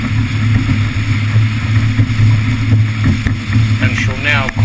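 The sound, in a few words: RIB motorboat with Yamaha 150 outboard accelerating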